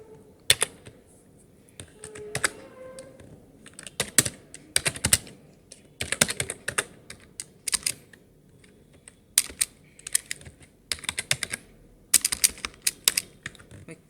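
Typing on a computer keyboard while writing Java code, heard as irregular bursts of close, clicky keystrokes separated by short pauses, with no talking.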